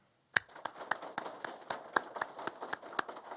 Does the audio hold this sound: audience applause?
yes